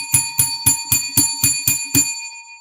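A bell struck as a sound effect, eight evenly spaced bright rings that ring out loud and close, then a short fading tail.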